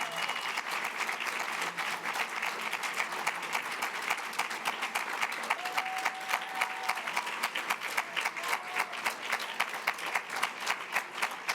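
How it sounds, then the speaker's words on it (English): Sustained applause from an audience at a school district Teacher of the Year ceremony, steady dense clapping throughout with a few louder claps standing out near the end. "One more round of applause."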